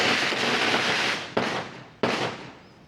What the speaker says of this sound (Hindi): दोस्तों यहाँ पे जी ये पटाखे पटाखे चला रहे हैं यार,